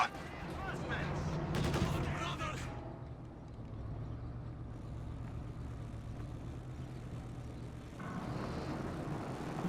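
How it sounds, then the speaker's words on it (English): Tank cannon fire and battlefield rumble from a T-34 and a Panzer IV in the real-time strategy game Company of Heroes 2, booming over steady engine and combat noise while a commentator talks throughout. "T-34 coming in, missing its first shot, but bounce from the Panzer IV."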